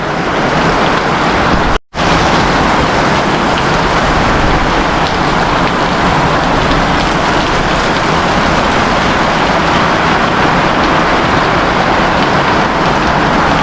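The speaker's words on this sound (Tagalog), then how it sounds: "lumalakas na po talaga yung ulan ngayon. Tsaka yung hampas ng ulan." Heavy rain roars steadily in a dense, constant wash of noise, loud and close, with one brief dropout near the start.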